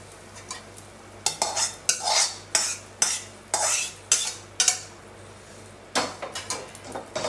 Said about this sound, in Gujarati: તો હવે આપણે તડકો કરશું આ રીતે.